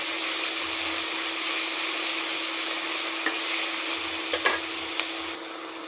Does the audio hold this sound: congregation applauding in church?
no